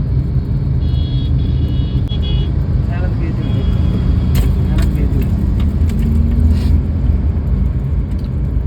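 A Maruti Suzuki Dzire with manual transmission rolls along a road, its steady low engine and tyre rumble filling the cabin throughout while people talk inside.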